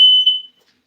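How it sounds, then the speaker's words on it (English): A kitchen smoke alarm gives one loud, piercing electronic beep that cuts off abruptly, followed by silence. "the fire alarm is going off because there's so much activity in this kitchen"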